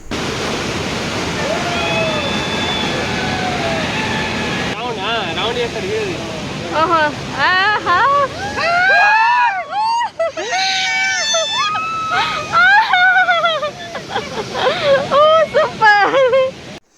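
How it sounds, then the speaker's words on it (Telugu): Hogenakkal waterfall in Tamil Nadu roaring up close, heard from a raft: a steady broadband rush of falling water fills the first seconds, then continues beneath excited voices and shrieks that crowd in over it. "మేము కూడా వాటర్ ఫాల్కి మరీ దగ్గరికి కాకుండా కొంచెం మా పైన వాటర్ పడేలాగా వెళ్ళాము."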